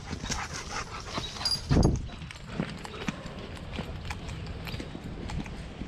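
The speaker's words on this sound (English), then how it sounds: "you're going to hear a lot of dogs in the background barking" Dogs barking off in the distance at a large off-leash park, scattered and faint against an outdoor hum, with one louder thump or scuffle close by.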